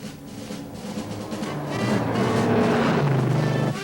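A 1971 AMC Javelin SST with a 401 engine accelerates hard on a test run, its engine note building steadily louder and climbing in pitch before it cuts off sharply near the end.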